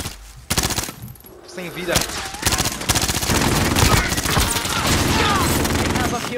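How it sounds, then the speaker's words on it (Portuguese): An automated turret in Call of Duty: Modern Warfare hammers out rapid, sustained machine-gun fire, loud and close, with a brief spoken voice near the start. "minha torreta tá dando bala"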